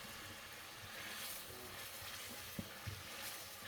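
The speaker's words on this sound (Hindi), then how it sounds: "इनको भी अच्छे तरीके से भून लेते हैं" Chopped ginger and a paste roast in a hot pan for dhaba-style chana dal, with a continuous sizzle and hiss and a couple of brief knocks near the end.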